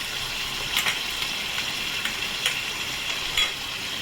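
Lote fish cooks in a pan as its liquid boils off, giving a steady close sizzle and hiss with three sharper scraping or clinking stirs spaced a second or so apart.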